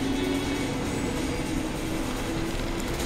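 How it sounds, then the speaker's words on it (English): A train rumbles past steadily in the Resident Evil 6 video game, a loud continuous rolling roar with a faint metallic hum, no voices over it. "Careful the train."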